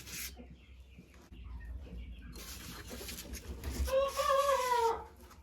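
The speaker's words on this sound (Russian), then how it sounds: "Уже молоденький петушок какой-то кукарекает за стенкой." A young rooster crows from behind a wall at a small farm during egg collection, a faint, muffled call rising near the end over quiet rustling and background noise.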